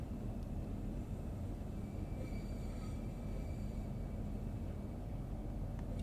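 A Southeastern High Speed train in Train Sim World 3 rolls into St Pancras International, with a low rumble and brief wheel squeal, heard fairly quietly.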